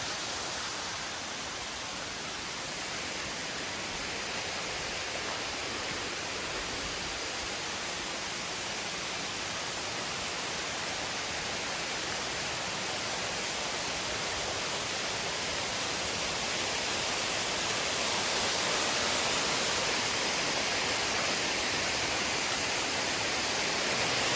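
Steady broadband rush of falling water at Mae Kampong waterfall in Chiang Mai, Thailand, constant and enveloping, with no other sounds breaking through for the full length.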